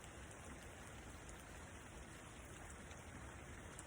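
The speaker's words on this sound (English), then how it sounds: "I can allow myself to relax even deeper to the sound of the drops falling on the ground" Steady rain falls on the ground under a gray sky, a dense, even patter of drops that holds at a constant level throughout with no voices.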